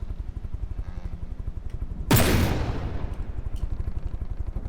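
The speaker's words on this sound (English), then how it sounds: "I just want to fire this cannon real quick" A single heavy cannon blast in the video game From the Depths booms out abruptly, its rumble trailing off over a second, set against a steady rhythmic mechanical background.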